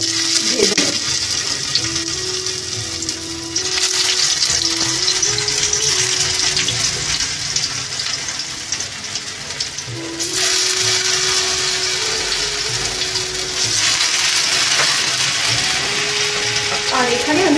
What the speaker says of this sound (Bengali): সর্ষের তেলটা গরম করেছি কড়াইতে এর মধ্যে আমি এই ডুমো করে রাখা আলুগুলো দিয়ে দেবো ভাজতে